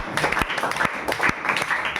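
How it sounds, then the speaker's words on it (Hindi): Applause for students in a classroom: a short burst of group clapping with uneven, overlapping hand claps and a few sharper individual claps, moderately loud and filling the whole moment without talk. "ताली हो इनके लिए"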